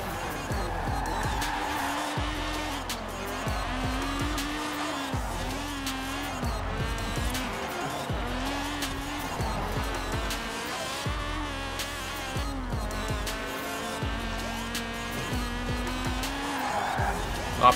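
Honda Civic driving in the racing game Forza Horizon 4: a continuous engine drone rises and falls with repeated gear shifts and occasional tire noise, loud and steady for the whole stretch.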